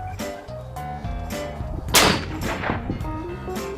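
A single loud crack from a Seekins Precision 6.5 Creedmoor rifle at an outdoor range, sharp and close, followed by a short decaying echo amid background noise.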